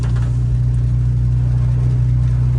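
A 2018 Toyota Tacoma's 3.5-liter engine with a FlowFX cat-back exhaust runs at a steady, close, deep drone with no rise in revs and no voices.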